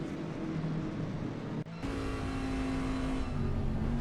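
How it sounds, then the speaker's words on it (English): Race car at Laguna Seca approaching the Andretti hairpin, its engine droning loudly and steadily. After a brief dip the revs climb again, and a sustained high squeal sits over them as brakes and throttle are held together. "that squealing sound, even with the revs climbing, is him holding the brakes and the throttle at the same time"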